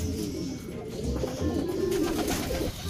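Pigeons coo in a home loft as racing birds arrive back, a steady low murmur of cooing with some wing and movement sounds close by, and no talk over it.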